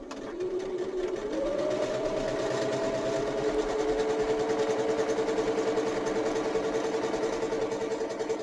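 A sewing machine stitches fabric bunting, its steady motor whirring close and loud with a rapid needle rhythm that holds evenly for the whole stretch, rising slightly in pitch as it runs.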